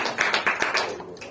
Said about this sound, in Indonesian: Tepuk tangan buat Bunga dan Arum.